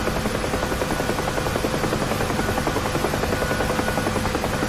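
A UH-1 Huey helicopter in the DCS flight simulator, its rotor thumping in a steady rapid rhythm over a loud continuous engine and blade roar, heard alone.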